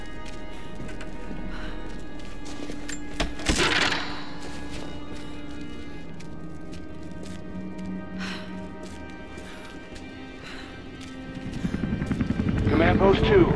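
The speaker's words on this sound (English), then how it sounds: "Last chopper outbound." Helicopter in the video game Rise of the Tomb Raider, a low rotor drone running steadily beneath game effects and scattered sharp sounds, swelling louder near the end.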